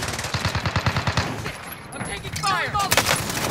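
A rapid burst of automatic gunfire from Call of Duty: Modern Warfare, sharp regular shots that stop, followed by further shooting and a whooshing game effect, loud and close with a player's voice over parts of it.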